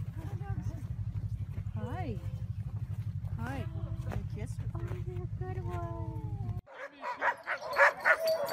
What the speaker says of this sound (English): Huskies. Okay, let's do this.